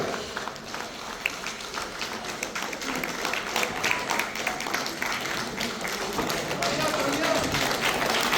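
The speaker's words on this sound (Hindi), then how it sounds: "तालियां होती रहनी चाहिए।" Audience clapping at a company meeting, a steady broad wash of applause that continues for the whole stretch and grows a little louder toward the end, with some voices mixed in.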